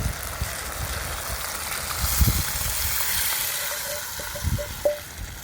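Tamarind water poured into a simmering fish curry pot, a soft rushing splash over gentle sizzling, with a few light clinks near the end.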